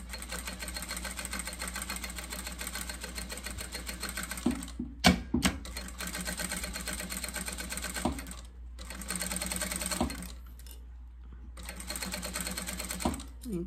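Sewing machine stitching fabric for a small Easter bunny bag, a steady rapid mechanical whirr that runs in long bursts with brief pauses between them, close and fairly loud.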